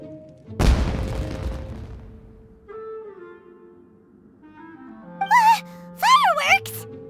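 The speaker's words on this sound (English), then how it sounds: "It sounded like fireworks." Explosive burst of fireworks in the video game Genshin Impact, one loud deep boom with crackling decay, followed by quieter character voices and vocal effects.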